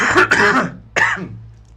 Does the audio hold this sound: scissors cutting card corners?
no